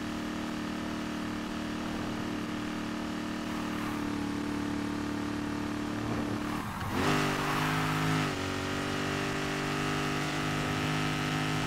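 A car engine in Need for Speed Heat drones steadily while climbing into the mountains, holding a constant harmonic hum that swells and shifts pitch briefly near the middle before settling again.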